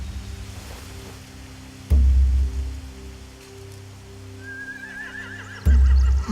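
Horses whinny in The Walking Dead: The Final Season video game, with one wavering neigh rising over steady rain, a low ambient drone and two heavy low thumps.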